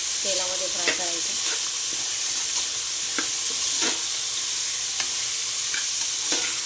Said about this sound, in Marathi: एकदम छान तेलामध्ये फ्राय करायचं।